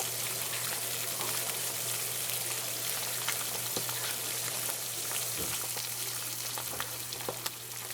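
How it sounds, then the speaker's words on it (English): An egg fries in a pan for a honey mustard ham hash, giving a steady, quiet crackling sizzle with scattered small pops over a low constant hum. "So we're gonna fry this baby up."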